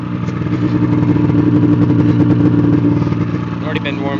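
A 2007 Ski-doo snowmobile engine revs steadily up close, a loud continuous mid-pitched drone with rising RPMs, and a voice can be heard faintly beneath it.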